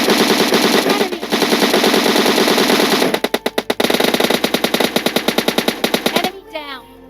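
M4 rifle fire in a battle royale video game rattles out in sustained automatic bursts, then breaks into rapid separate shots, loud and close, ending in a short echoing tail.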